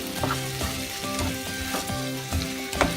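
Boiled potatoes fry in an aloo matar sabzi, a loud, continuous sizzle broken by repeated scraping stirs of a spoon against the pan, about one every half second.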